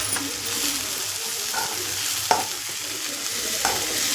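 Dried prawn thokku being stirred as it fries in a pan, giving a steady close sizzle with a few soft scraping strokes of the spoon against the pan.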